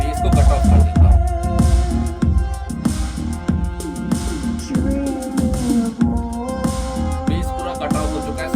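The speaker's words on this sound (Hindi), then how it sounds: "अब बेस को कट ऑफ कर देता हूँ।" Music from a GOVO GoSurround 1008 Pro 680W 5.2-channel Dolby soundbar with its bass turned fully off, a thinner mix of plucked and rhythmic tones with bright upper notes, steady and fairly loud, with no voice over it.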